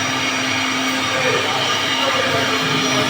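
A 4-axis CNC router machine runs through a cutting design, giving a steady, dense mechanical whine with a constant tonal hum that stays loud and even throughout, without pauses.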